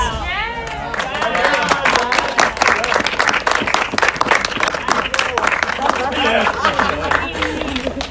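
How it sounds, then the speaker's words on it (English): Applause with cheering from Sydney Survivor players welcoming the pre-merge contestants, sustained and loud throughout, with voices mixed into the crowd. "And to all our pre-mergers, round of applause."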